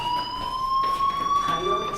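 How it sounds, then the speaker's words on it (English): A school fire alarm in the Life Is Strange video game rings as a steady, piercing electronic tone that holds at one pitch throughout, loud and continuous, with faint voices beneath it. "do you hear that fire alarm?"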